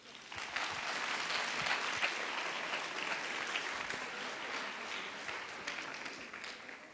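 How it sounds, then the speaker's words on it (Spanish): A seated academic-week audience applauds a doctor before her talk, a dense, even wash of many hands clapping together that holds steady for several seconds and tapers slightly at the end, with no speech over it. "a la doctora Margarita Palomino Guerrero, para quien pido un aplauso."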